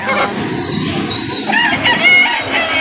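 A rooster crows loudly and close by at a chicken market stall, its drawn-out call rising over a busy background of clucking chickens and general barnyard noise.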